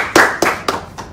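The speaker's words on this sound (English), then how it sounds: "Please clap for the person." Audience clapping for a donor at a live fundraising show: four separate sharp clap bursts in quick succession, each fading before the next, fairly close and with no speech.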